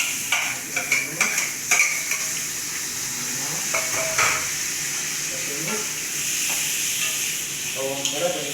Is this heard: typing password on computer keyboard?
no